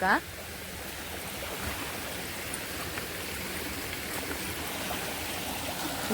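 Water rushes steadily in a continuous broadband wash, like a flowing stream nearby, with a brief voice at the start.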